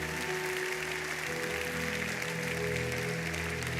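A church congregation applauds God during a French-language sermon, steady sustained clapping from a large crowd with a low hum beneath, continuous and even throughout.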